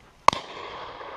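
A single sharp shotgun blast at a driven bird shoot outdoors, loud and close with a short rolling echo trailing off.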